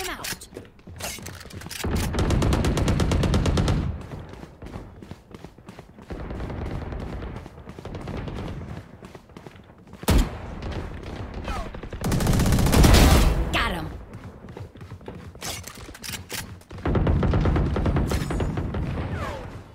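Grenade blasts and gunfire in a video game arrive as several heavy, loud bursts of explosions and rapid shots with mechanical clatter in between, spread over about twenty seconds.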